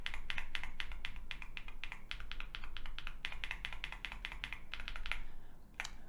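Typing on Gateron tactile keyboard switches produces a rapid, irregular stream of soft clacks, close and steady, with a short pause near the end before one final keystroke.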